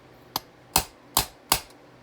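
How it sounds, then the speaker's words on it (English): A punch is tapped to seat idle tubes level in a Quadrajet carburetor, four crisp close metallic clicks, one light then three firmer, evenly spaced and alone. "And then we've got the punch to make sure that they are"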